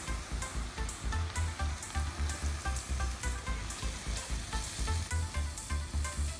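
Broth poured over browning meat in a hot cast-iron Dutch oven for a sauerkraut stew, giving a loud, steady sizzle and crackle with rhythmic stirring scrapes throughout, no voices.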